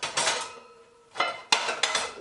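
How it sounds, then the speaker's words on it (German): Metal cooking pots clank and scrape as they are grabbed and handled in a home kitchen while preparing to preserve plums; a few sharp, close clatters separated by short pauses, with no voices. "ich schnappe mir jetzt meinen Topf"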